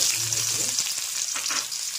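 Dunbon herb dry-fries in a wok without oil, a continuous bright crackling sizzle with light stirring scrapes, close and steady throughout.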